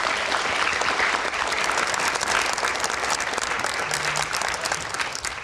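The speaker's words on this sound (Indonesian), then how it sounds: "Oke, kita berikan tepuk tangan" Dense, steady applause from a studio audience at a televised Indonesian political debate show about the 2024 election, filling the whole stretch at an even level with no clear voices over it.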